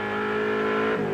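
Ford Mustang racing at Bathurst in 1985, its engine roaring loudly and steadily on track, holding one high note before the pitch dips sharply near the end as the car lifts off.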